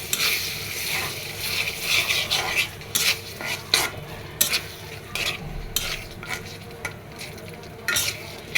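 Brain (mogoj) cooking in a pan of spiced masala sauce, with a low bubbling sizzle under repeated clanks and scrapes of a metal spoon stirring against the pan.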